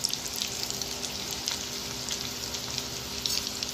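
Prawn lollipops frying in a pan over a low gas flame give a steady, close crackling sizzle with small spits and pops throughout and no talk.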